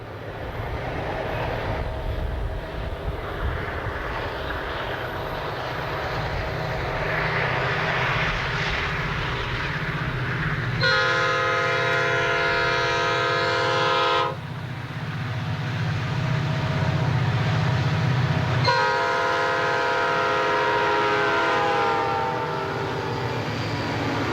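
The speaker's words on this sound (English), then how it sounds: "Ed recorded northbound manifest freight train 152 at Norris." A Norfolk Southern northbound manifest freight train rumbles past at Norris with a steady diesel engine drone as its horn sounds in two long, loud blasts.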